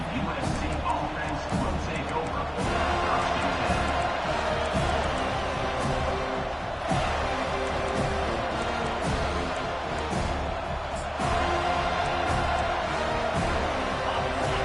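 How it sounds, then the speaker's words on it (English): A college football stadium crowd roars in a broad, constant wash of noise, with a commentator talking over it throughout. "This crowd bringing an ear-splitting welcome to their visitors."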